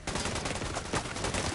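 Grenade launcher fire in a shooter video game comes as a short burst of rapid, noisy shots over about a second and a half.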